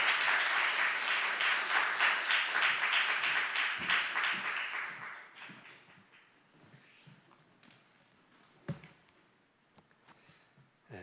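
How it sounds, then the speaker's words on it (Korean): A church congregation at a Sunday youth service gives the senior pastor a loud, dense round of applause that fades after about five seconds, leaving scattered claps, shuffling and a sharp knock in a quieter hall. "우리 담임 목사님 나오실 때 큰 소리 박수로 맞이해 주시기 바랍니다."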